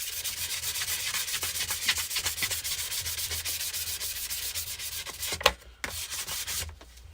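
An epoxy side table is lightly hand sanded with 400 grit paper, giving steady rhythmic rubbing strokes that continue close by, with a sharp knock near the end before the scraping resumes more faintly.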